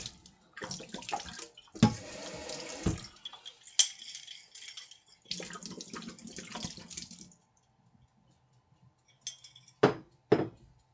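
A juice container is rinsed under a running kitchen tap, with gushing water in bursts, splashing, and a few sharp clinks of the container nearby, then stretches of quiet.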